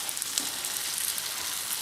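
Sesame and almond pastries fry in hot oil, giving a steady, close sizzle with light crackling pops throughout and no voices.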